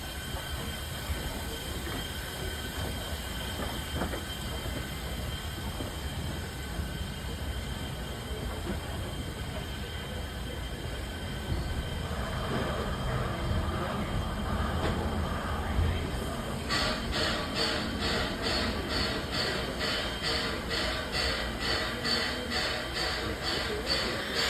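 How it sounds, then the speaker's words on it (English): A Strasburg Rail Road steam train runs around its train, with steady rumbling rail noise that grows louder partway through, then turns into a rapid, rhythmic clatter of wheels over the track. "At the end of the line, the engine runs around the train and pulls it back to Strasburg."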